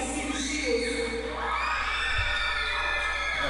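Spectators at a wrestling show cheer and shout together in a lively, sustained roar, with a few higher whoops and voices rising over the din.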